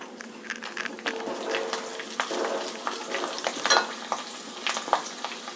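Garlic frying in hot oil with popped mustard seeds, a close crackling sizzle with scattered sharp pops and a few stirring scrapes, steady throughout.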